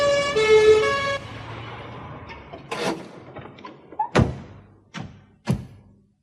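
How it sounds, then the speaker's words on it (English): An ambulance siren sounds in the distance on a road where an injured woman lies, its wailing tone fading within the first second. A few dull thuds and knocks follow against a quiet background. "A siren sounded in the distance."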